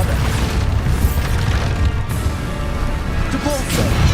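Bombarda spell blasts from Hogwarts Legacy, a dense, continuous booming barrage with crashing impacts layered over constant loud game noise and a spoken voice.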